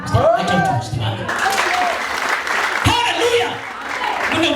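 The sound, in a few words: congregation clapping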